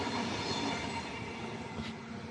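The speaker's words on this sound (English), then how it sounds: "There's a train going past right now." A train rolls past on a railway at night, heard as a steady, rumbling roar with a brief squeal from the wheels near the end.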